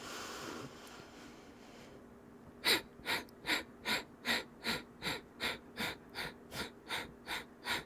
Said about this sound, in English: Little exhales through the nose are forced.